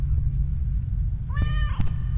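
In The Stairway 7 video game, an orange cat lets out one short, bright meow against a constant low hum, with a couple of faint clicks just after.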